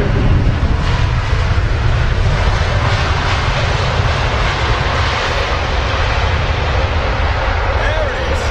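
Jet engines of a Germanwings Airbus A319 at London Heathrow give a loud, steady, close roar that runs unbroken throughout.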